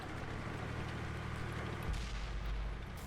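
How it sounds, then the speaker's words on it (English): Tank cannon fire in the World of Tanks game on Xbox One: a deep boom lands midway through and leaves a heavy rumbling tail over the constant battle noise. "I reposition to try and get a shot on this Black Prince"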